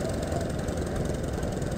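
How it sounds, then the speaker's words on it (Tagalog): Motorcycle engines rumble steadily on a quiet island road, a continuous close mid-low drone with no break. "Puros motor."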